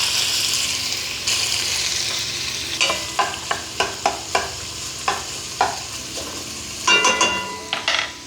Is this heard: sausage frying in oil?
yes